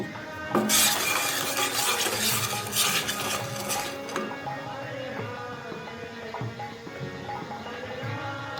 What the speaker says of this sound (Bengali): অনবরত নাড়াচাড়া করে জ্বালিয়ে নিতে হবে